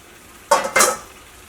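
Marinated chicken dropped into a hot pan of tomato masala, giving two quick bursts of sizzling and stirring that fade into a quiet hiss, close and fairly loud.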